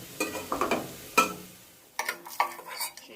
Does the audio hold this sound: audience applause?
no